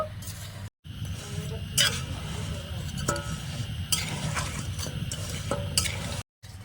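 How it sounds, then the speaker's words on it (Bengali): Jaggery with a little water being stirred in a cooking pan as it melts for gur kathi sweets: steady scraping and stirring with a soft sizzle throughout, broken by two brief silent gaps. "এবার আমি নেড়ে ছেড়ে গুড়টা ভালো করে গলিয়ে নেব"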